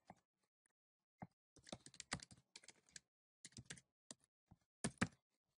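Computer keyboard typing comes in quick, irregular bursts of keystrokes with short pauses between them, close and fairly quiet with no talking.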